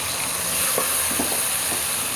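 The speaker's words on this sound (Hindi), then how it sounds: "और चिकन को भी हम 2 से 3 मिनट फ्राई करेंगे घी में" Chicken pieces frying in hot ghee for a white chicken yakhni pulao, giving a steady close sizzle with a few soft stirring scrapes over about two seconds, no voices.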